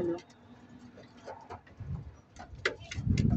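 A pigeon coos softly a few times close by, low throaty calls rising toward the end, amid quiet clicks and rustling.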